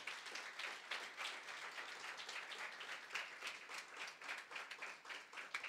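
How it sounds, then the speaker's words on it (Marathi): A church congregation claps along during a Sunday sermon, a steady, dense patter of many hands that runs continuously, fairly soft and a little distant. "टाळ्या वाजूयात, प्रभूला धन्यवाद देऊयात"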